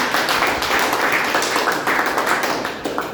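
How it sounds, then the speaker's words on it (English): Small club meeting audience clapping for the sergeant at arms, a steady close patter of hands that holds for a few seconds without talk. "So, huge round of applause for the sergeant"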